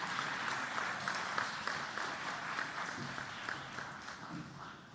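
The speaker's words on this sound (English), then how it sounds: "If you would please give a round of applause" An audience at a human rights celebration gala applauds steadily to welcome a poet to the stage, with a continuous wash of clapping that gradually tapers off.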